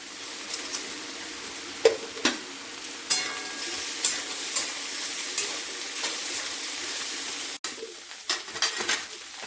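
Peanuts frying in a pan for a cauliflower samosa filling, with a soft sizzle running throughout and scattered clicks and scrapes of stirring, fairly quiet and with no voices.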